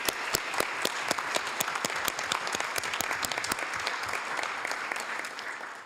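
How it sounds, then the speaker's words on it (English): Audience at a Hayward city council meeting giving a round of applause, dense clapping with sharp distinct claps standing out, sustained and fairly even before easing slightly at the end, with no speech. "ladies and gentlemen, let's give her a big round of applause again"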